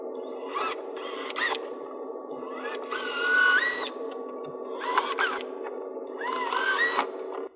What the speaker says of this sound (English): We're then going to drill to the depth of the blue tape.